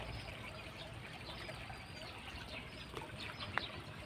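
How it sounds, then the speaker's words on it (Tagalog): A creek's water trickles and pours in a faint, continuous wash, with a brief sharp chirp near the end and no speech. "yan ang sapa"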